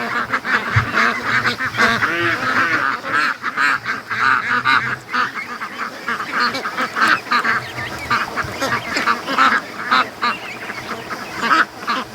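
A flock of free-range ducks, including Rouen and Pekin crosses, quacking and honking loudly and continuously at close range, many overlapping calls forming a busy, raucous chorus with no voices.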